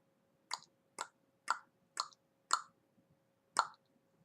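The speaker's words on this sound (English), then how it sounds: "I made a sound with my tongue just so that you could hear where those happen" A run of tongue clicks taps out a rhythm: five evenly spaced pops, a short gap, then a sixth. The clicks are close and crisp against a quiet background, with no talking.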